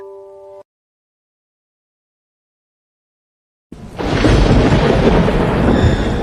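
Thunder from a lightning strike that hit a roof circuit breaks out after a brief tone and a few seconds of silence. It is a sudden, loud, sustained rumbling roar that stays heavy to the end.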